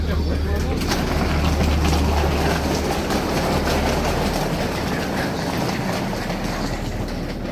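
Steady rumble and clatter of a train riding through Italy near Verona, a continuous loud rolling roar with rail clicks and heavy low hum, close and unbroken throughout.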